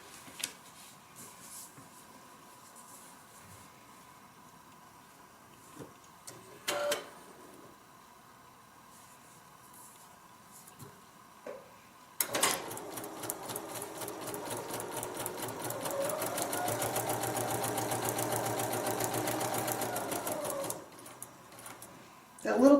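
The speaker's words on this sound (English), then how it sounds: "That little clicking noise you hear is the needle going through the paper." A sewing machine stitching through paper while paper-piecing a log cabin heart quilt block, its needle giving a fast, steady, rhythmic clicking run for several seconds. Quiet talk comes before the stitching starts.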